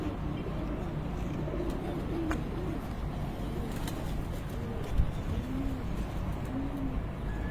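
Ali Wala pure breed pigeon cooing in soft repeated low calls, faint against a steady background murmur.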